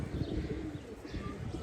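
Chila pigeons coo in a loft on an overcast day, a low continuous murmur of several birds close by with faint chirps above, no voices.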